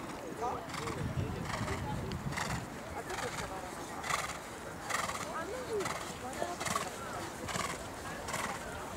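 A horse whinnies repeatedly, mixed with hoof clip-clop and a busy background of voices at moderate distance.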